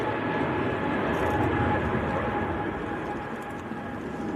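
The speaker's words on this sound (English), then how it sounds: "That is EasyJet to Hurghada down in Egypt, A320neo" An EasyJet Airbus A320neo takes off at Manchester Airport, its engines producing a loud, sustained broadband roar with a steady tone that eases slightly toward the end, alone without talk.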